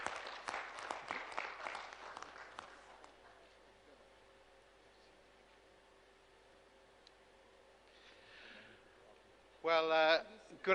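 A plenary-session audience applauds to welcome a speaker to the stage, a burst of clapping that fades out within a few seconds, leaving a quiet hall with faint rustling and a brief noise at the end.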